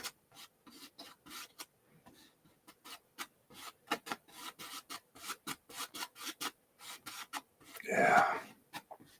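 A paintbrush crisscrossing over canvas while a sky is painted, giving a run of soft, close, rhythmic scratchy strokes with brief gaps, then one louder, longer swipe near the end.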